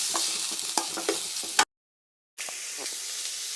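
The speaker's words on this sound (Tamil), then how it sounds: "தக்காளி ஆட் பண்ணி நல்லா வதக்கலாம்" Tomatoes sautéing in a pan for Kerala kadala curry masala, a steady bright hiss and sizzle broken by sharp stirring scrapes and clicks, with a short gap of silence midway.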